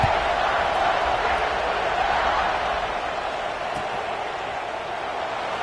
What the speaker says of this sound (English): Do you think this crowd's going to get loud when their defense comes on the field?